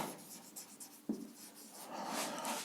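Pen scratching across a surface as a maths formula is written during a physics lesson, a soft continuous rubbing with one sharper tap partway through, faint and close, with no voice.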